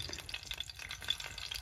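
Ginger tempering in hot oil in a pot, a close steady crackling sizzle with faint stirring scrapes, no voices over it.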